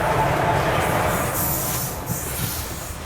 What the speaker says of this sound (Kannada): ಯಾವ ಟ್ರೈನ್ ಇದೆ ಅದು? ಪ್ಯಾಸೆಂಜರ್ ಟೈಪ್ ಅನ್ಸತ್ತೆ ರೀ.